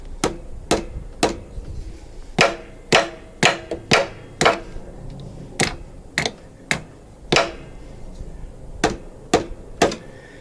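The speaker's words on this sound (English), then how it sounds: "tap it a few times with a hammer, not a metal one, just one of these plastic rubbery ones" A plastic rubber mallet tapping on a KLR650 motorcycle during an oil change, sharp distinct knocks in loose groups of two and three, close and clear, about eighteen strikes with brief pauses between.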